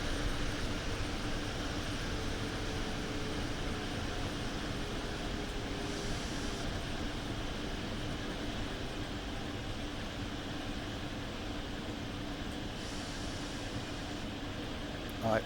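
Electric tram cab noise in Train Sim World 2, a constant low rumble with a hum like ventilation and no clear events, fairly quiet and without talking.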